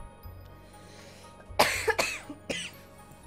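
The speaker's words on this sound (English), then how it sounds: "It's obvious that I'm dying right now from a coughing fit" A burst of harsh, repeated coughs, close and loud, several hacks in quick succession after a quiet start.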